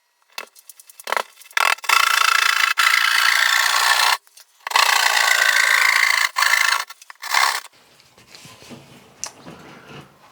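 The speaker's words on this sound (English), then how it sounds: "now we're ready to make our cuts. So we've got our drywall saw." A handheld drywall saw cuts through a drywall panel along a traced outline during a ceiling speaker install, giving loud rasping strokes in several sustained bursts with short pauses between them and no talking.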